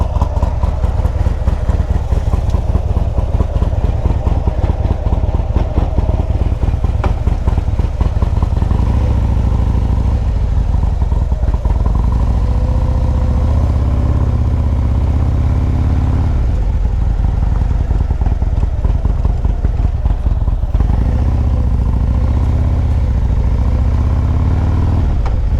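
A motorcycle fitted with a Kraus Moto Pro Series seat is ridden on the road, its engine a loud, continuous close drone that rises and falls with throttle changes, with no voices.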